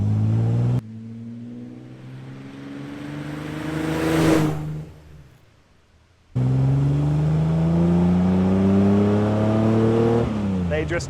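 A restored Austin Healey 3000 MK3 BJ8 Phase 2 revs hard on the move, its engine note climbing and falling in strong rising sweeps, briefly dropping away before surging back loud and close.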